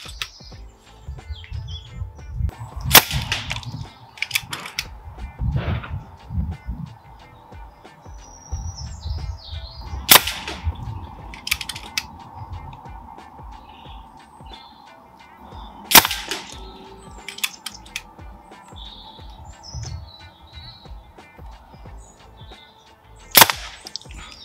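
FX Maverick VP air rifle firing pellets outdoors in wind, a handful of sharp isolated cracks spaced several seconds apart over a constant hum and birdsong.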